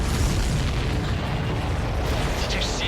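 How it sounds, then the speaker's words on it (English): A loud, heavy explosion in the Ace Combat 7 combat flight game, heard as a dense low boom and roar that fills the whole stretch with sustained rumbling and crackle, close and forceful. "Did you see that explosion?"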